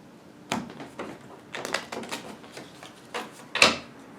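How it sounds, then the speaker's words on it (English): A deck of Power Grid playing cards being shuffled by hand at a table, heard as a series of quick papery riffles and taps in short bursts, close and with no talk. "So I'm going to shuffle these real quick"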